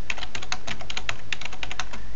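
Rapid bursts of keystrokes on a computer keyboard while entering switch configuration commands, crisp clicks in quick irregular runs, close and fairly loud with no talking.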